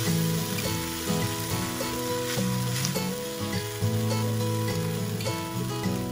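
Shrimp go into a sizzling keto feta pasta sauce in a pan, producing a steady, moderately loud sizzle that runs under background music.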